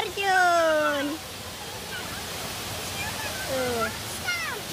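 Waterfall at a zoo, a steady broadband rush of falling water heard continuously at moderate level, with voices speaking over it at the start and near the end.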